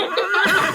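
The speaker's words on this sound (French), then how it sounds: "Là, il y a mon cheval." A horse at a riding stable gives a short, loud, close whinny, a quavering high neigh lasting under a second, with nothing else heard.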